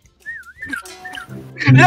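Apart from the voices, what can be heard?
whistle sound in Roblox Prop Hunt video game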